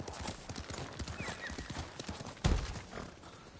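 Horse hooves gallop in Ghost of Tsushima, on Iki Island, a rapid drumming rhythm of close footfalls with a brief whinny and one heavier thump midway, and no one speaking.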